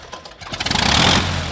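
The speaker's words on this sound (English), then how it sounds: "here is the too low idle" An aircraft piston engine runs at too low an idle, rising from a quiet start into a steady, uneven pulsing throb that stays loud and close for about a second.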